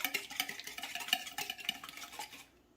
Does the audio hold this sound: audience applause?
no